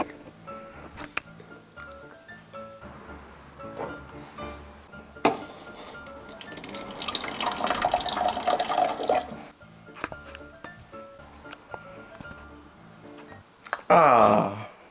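Water is flung onto a sleeping friend's face as a prank, a loud splashing rush lasting a few seconds in the middle, surrounded by scattered household clatter and a short bright squeal near the end.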